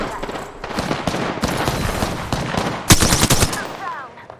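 Apex Legends battle gunfire: rapid bursts of automatic shots crackle throughout, loud and close, with a sharper, heavier volley near the end.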